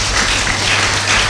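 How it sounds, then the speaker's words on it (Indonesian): A church congregation at a Pentecost worship service claps together in a short, dense burst of applause that fills the room. "Berikan tepuk tangan buat Yesus."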